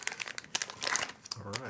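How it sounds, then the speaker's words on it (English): Plastic zip bags holding a Racercube AIO F3 flight controller and FrSky receiver are pulled open and handled, with sharp crinkling and rustling bursts close by, and a voice talks briefly near the end. "So let's go ahead and zip these open and take a look."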